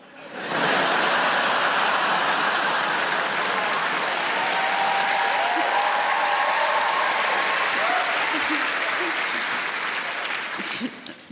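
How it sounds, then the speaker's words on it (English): A large comedy theatre audience bursts into loud, sustained applause, a dense wall of clapping from many hands with crowd noise mixed in, holding strong for several seconds before stopping abruptly. "It's weird to applause that, isn't it?"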